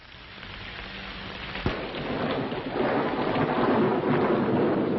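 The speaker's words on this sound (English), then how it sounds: "Maybe it was the storm." A radio drama sound effect of a stormy August evening: steady heavy rain hissing on a surface, with a sharp thunder crack followed by a swelling, rolling rumble and no voices.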